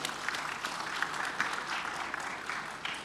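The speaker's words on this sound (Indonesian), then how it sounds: "Tepuk tangan untuk Polri Bapak Ibu." Audience applause breaks out at a Polri national corn harvest event in Indonesia, a dense, steady clatter of many hands clapping at once that holds at an even level throughout.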